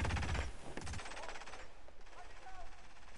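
Rapid bursts of gunfire in the Hitman video game, set in Paris, loudest in a dense volley during the first second, then thinning into scattered distant shots and rattling under a noisy background.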